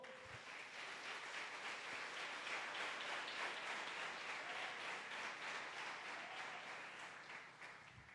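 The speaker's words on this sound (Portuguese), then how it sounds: "Você pode aplaudir o Senhor?" A church congregation applauds together, a soft, distant, continuous wash of many hands clapping that holds steady for about eight seconds before tapering slightly.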